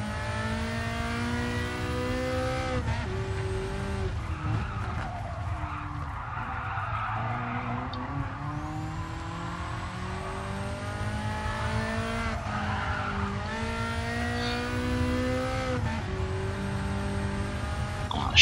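A rear-engined race car in Gran Turismo Sport drives hard, its engine droning and shifting pitch through gear changes while tyres squeal and skid through corners, loud and continuous with no talk.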